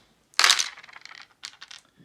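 Four dice clatter onto a tabletop during a Chain of Command wargame, one sharp rattling throw followed by a smaller tumble, close and alone.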